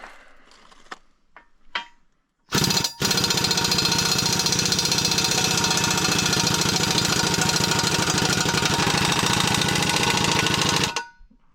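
A DTZ 354U tractor's diesel engine roars steadily at close range with a rapid knocking rhythm, starting abruptly after a few quiet knocks and cutting off near the end.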